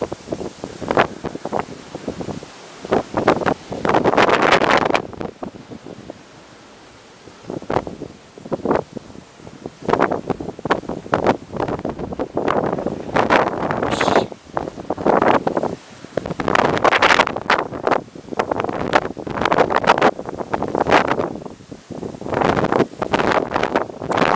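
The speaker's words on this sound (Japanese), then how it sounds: "風が強い。" Strong wind buffets an action camera's microphone on a hill of cherry trees, loud roaring gusts rising and falling continuously throughout with no clear talk.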